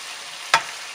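Tomato rasam masala stirred in a pan with salt and asafoetida, a single short scrape of the spoon rising over a steady soft sizzle, close and alone.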